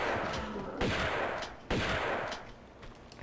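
Two sharp shotgun blasts in the video game Tomb Raider, spaced about a second apart, each a loud crack with a short echoing tail, followed by fainter clatter.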